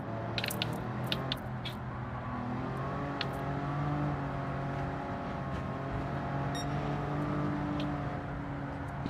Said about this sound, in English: the supercharger in this thing doesn't even sort of pick up speed